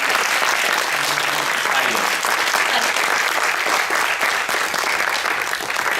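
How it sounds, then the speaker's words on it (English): Film premiere crowd gives the cast and crew a sustained round of applause, thick and loud, with no letup across the clip and a faint voice briefly underneath. "can you please give all of these folks a tremendous round of applause?"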